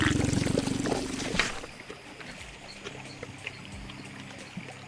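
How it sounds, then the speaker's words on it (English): A cartoon Ankylosaurus lets out a thunderous blast of gas beside a peaceful river: a loud, low buzzing rumble for about a second and a half that cuts off abruptly, followed by faint trickling water and scattered small sounds. "The loud rumbling starts, and here it comes, another thunderous blast of gas."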